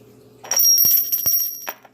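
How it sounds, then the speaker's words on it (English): A small bell rings a few times in quick succession, bright and close, with sharp repeated strikes over a quiet background. "Are you still hearing the ringing of the bell?"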